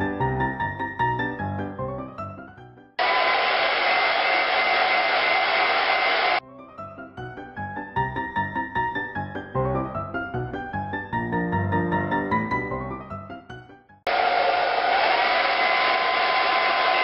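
A hair dryer blows steadily to dry paint on a sponged craft project, running in two loud bursts of a few seconds each that cut in and out between stretches of music.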